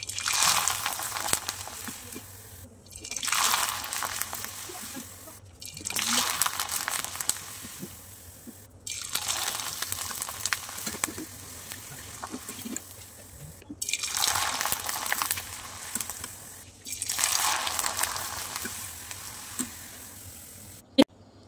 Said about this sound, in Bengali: পিঠাগুলোকে কিন্তু এখন আমি ভেজে নিচ্ছি